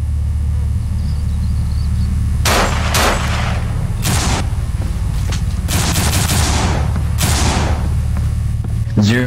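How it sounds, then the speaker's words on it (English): Rapid bursts of gunfire from the zombie video game No More Room in Hell, several volleys over a low rumbling backdrop, loud and close, with some spread-out shots. "Zero is shooting people."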